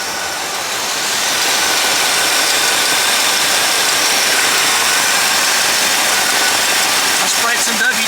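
A 1964 Pontiac 389 V8 cranks and settles into a steady run, its exhaust leaking at the manifold-to-downpipe flange and giving a hissy, puffing drone close to the microphone. People talk near it.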